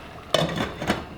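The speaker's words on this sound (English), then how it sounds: "I'm gonna give them a cover." A lid goes onto a pot of simmering rice with two quick, close metallic clinks about half a second apart, over a quiet background.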